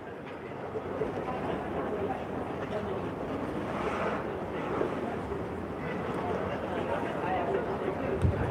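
Rough, choppy water in Valletta's Marsamxett Harbour mixed with steady wind buffeting the microphone, a dense continuous wash of noise with a voice talking over it.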